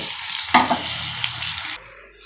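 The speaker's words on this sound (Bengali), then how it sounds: "আমার বেগুনগুলো ভালো করে ফ্রাই করে নিয়েছি" Small eggplants fry in a pan of hot oil, giving a loud, steady sizzle with a stirring scrape near the middle before the crackle cuts off abruptly toward the end.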